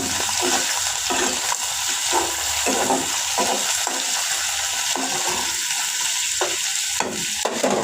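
Potatoes fry in a pan with a steady, close hiss and crackle, broken up by stirring and scraping that gives the sound an irregular rhythm; nobody speaks.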